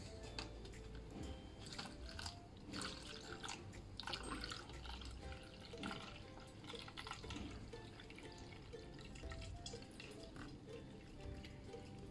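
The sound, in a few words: liquid being slowly poured through filter paper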